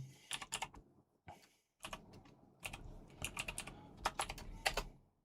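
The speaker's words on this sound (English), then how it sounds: "Why was I even typing that?" Fast typing on a computer keyboard during a live football watch-along stream, sharp clustered key clicks in irregular bursts separated by short pauses, close and fairly quiet, with no speech.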